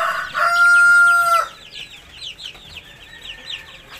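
Hens cluck and a rooster crows loudly up close at a Philippine poultry farm that hatches and sells chickens, with a steady chorus of softer clucking and chirping continuing after the long crow ends.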